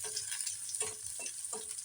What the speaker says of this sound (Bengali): আমি তেলটা গরম করে পেঁয়াজ কুচিগুলো দিই